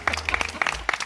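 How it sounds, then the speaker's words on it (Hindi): Applause from a small gathered crowd at an Independence Day flag hoisting in a residential colony, uneven bursts of clapping mixed with a few voices and low rumble, short and fairly close. "फ्लैग होस्टिंग के लिए इंडिपेंडेंस डे पे कम ऑन तालियां"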